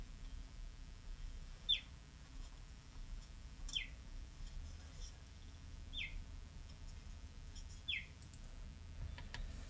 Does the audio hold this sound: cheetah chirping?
yes